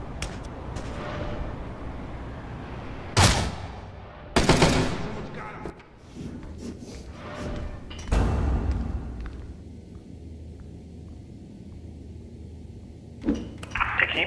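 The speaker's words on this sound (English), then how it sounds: "Who's shooting?" Loud bursts of gunfire ring out in the stealth game Mark of the Ninja, separated by quieter stretches of ambient game sound, with a final cluster of shots at the end.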